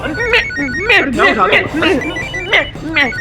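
A telephone rings with repeated chirping tones while people talk excitedly over it, the ring nearly buried under the voices.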